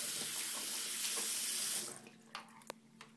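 Water pours steadily over a Sainsonic RST599 handheld radio held under a running tap during a waterproof test, a loud continuous splash that stops partway, leaving a few faint knocks and drips.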